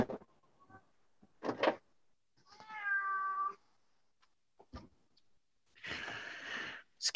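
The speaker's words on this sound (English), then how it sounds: "go away, cat. You hear that?" A frail old cat meows several times with breathy gaps between cries, close by and fairly quiet, including one drawn-out tonal yowl.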